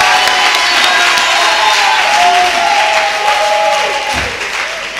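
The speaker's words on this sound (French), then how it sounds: "On peut les acclamer pendant qu'ils retournent à leur place." A church congregation at a Sunday service applauds workers returning to their seats, giving loud, sustained, dense clapping from a large crowd that fades slightly toward the end.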